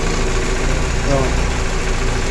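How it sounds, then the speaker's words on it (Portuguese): A car fitted with a Weber 460 carburetor idles close by with a steady, even engine rumble, and someone talks over it. "A marcha lenta do meu é essa aí, ó. Aí ele estabiliza aí"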